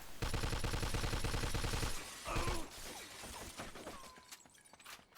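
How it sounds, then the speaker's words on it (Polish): A Thompson submachine gun in Mafia II Remastered fires a loud, rapid, evenly spaced burst for about two seconds, followed by scattered impacts, breaking debris and quieter distant shots. "On strzela z góry gdzieś"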